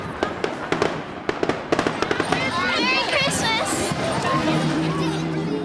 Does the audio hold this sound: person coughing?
no